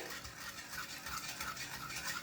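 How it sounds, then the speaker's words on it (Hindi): Soft scraping and stirring of yogurt with chopped green chili in a bowl, a steady swishing with faint clinks, close by and quiet, with no voices. "अब इन सबको हम मिक्स कर देंगे।"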